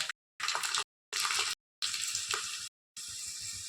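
Chopped garlic hits hot oil in a pan, giving bursts of loud, close sizzling broken by short silences, ending in a steadier hiss.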